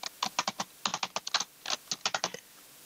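Fingers typing on a computer keyboard while entering an Excel formula, with quick bursts of crisp key clicks separated by short pauses, close and clear with no voices.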